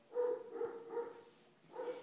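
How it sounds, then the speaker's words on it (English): A dog barks indoors in a quick run of three to four close, moderately loud barks, then a short pause and another bark. "I'm really sorry about my dog barking like crazy."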